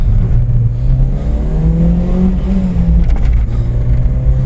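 A Citroën ZX 1.6i petrol engine revs steadily and close by, its drone rising and falling in pitch over a few seconds with a continuous throaty hum.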